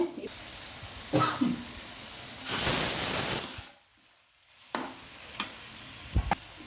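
A loud burst of sizzling as tomatoes drop into a hot pan, settling into steady frying hiss, with occasional stirring clatter and scrapes.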